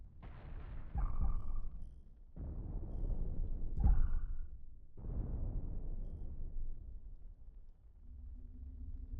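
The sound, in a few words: nuke explosions in the video game Cosmoteer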